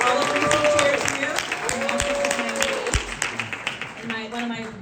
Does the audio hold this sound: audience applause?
yes